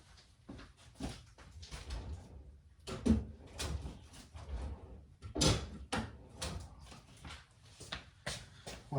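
A workshop drawer is pulled open and rummaged through for a hammer during wiring work on a 1966 Mustang Fastback, with clattering knocks and thumps of tools shifting, two louder bangs standing out amid steady rattling.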